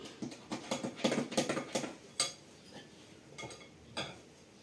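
Flour is folded by hand into a carrot chocolate cake batter: a burst of quick, close scraping and clinking strokes, then a few sparser taps and knocks, with no voices.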